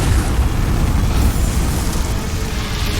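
A gas-filled cave in the video game Demon's Souls is set alight and erupts in a sustained, loud, rumbling blast that rolls on continuously with heavy low-end roar throughout.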